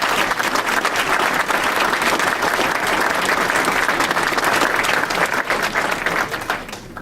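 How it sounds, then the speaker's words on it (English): Loud, dense applause from a large audience fills the whole stretch, steady and continuous before easing slightly at the end, with faint crowd voices mixed in. "that deserves a round of applause"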